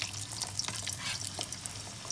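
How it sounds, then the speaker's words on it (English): Potatoes fry in oil heated to 180 degrees for their second fry, a soft continuous crackling sizzle with scattered small pops, quiet and close with no voices. "Now we're going to fry it until it turns golden brown like you would with normal fries."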